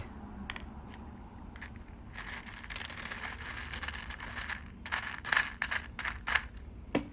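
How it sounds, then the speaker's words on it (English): Crisp, dry rattling and crunching of small gold wax-seal beads, starting sparse then becoming denser in bursts, close and fairly quiet. "This is the sound that the gold beads make."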